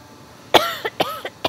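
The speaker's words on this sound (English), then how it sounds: "while you cough yourself to death" A person coughs several times in quick succession, close and fairly loud, with short gaps and no talking.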